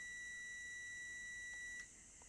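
A continuity tester beeps while probing the power switch of a Philips CM8833 CRT monitor under repair, giving one steady high tone that holds and then cuts off when the switch is released, quiet and alone.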